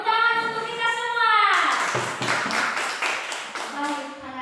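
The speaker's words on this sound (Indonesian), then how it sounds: "tepuk tangan untuk kita semua" Students in a classroom break into a brief burst of clapping after a voice, the patter of hands close and uneven for about two seconds before talk resumes.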